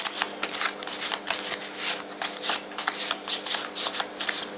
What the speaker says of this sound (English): let's shuffle the Great Old One cards.